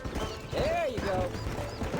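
Horse hooves gallop in the video game Red Dead Redemption, a rhythmic clip-clop running beneath a voice speaking over the top.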